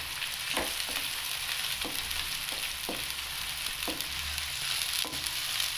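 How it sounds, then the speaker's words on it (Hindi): Onions frying in oil until brown for a kofta gravy, a steady close sizzle broken by occasional stirring scrapes and clicks, with no voices. "प्याज को मैं ब्राउन करता हूँ।"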